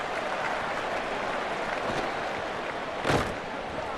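A stadium crowd in the College Football 27 video game roars after a punt return fielded in the end zone, a dense sustained cheer and applause with a brief louder burst near the end.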